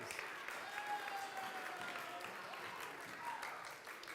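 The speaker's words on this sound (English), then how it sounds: "Round of applause." Steady applause from an audience at a church confirmation ceremony, a dense wash of clapping that holds for several seconds at moderate distance, with some faint talk mixed in.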